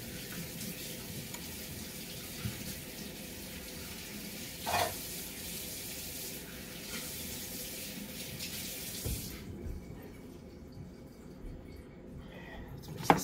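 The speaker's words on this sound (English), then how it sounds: "let me wash my hands" Tap water runs steadily into a kitchen sink during hand washing, a close continuous splash with a few small knocks, cutting off near the end.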